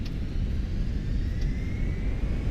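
Twin jet engines of a Fenix A320 in Microsoft Flight Simulator roar at takeoff power, a steady dense rumble with a faint rising whine, continuous and loud.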